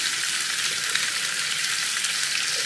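Mackerel fries in a pan with a steady, loud, close sizzle that holds evenly throughout, with no talking over it.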